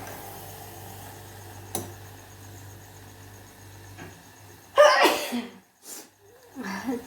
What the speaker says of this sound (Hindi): ये बनाते बनाते मुझे तो भाई छींक आ गई।